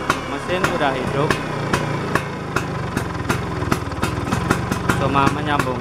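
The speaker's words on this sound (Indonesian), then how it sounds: "Ini mesin udah bisa hidup." A newly assembled Vespa scooter engine idles close by, with a loud, steady putter and regular sharp popping beats, running on its own without any talk over it.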